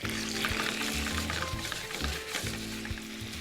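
Cherry tomatoes cooking in a pan, a soft continuous sizzle and pop with intermittent low knocks and scrapes from stirring.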